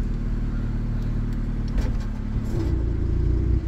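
A car engine with a faulty exhaust silencer idling with a rough, rumbling low drone and a slight rise in revs partway through, close by with no talking.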